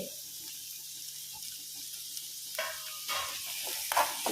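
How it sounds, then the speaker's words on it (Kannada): Chopped onions fry and are stirred in a pan, a low steady sizzle under occasional scraping of a spoon that grows a little louder toward the end. "ಈರುಳ್ಳಿ ಫ್ರೈ ಆಗಲಿ"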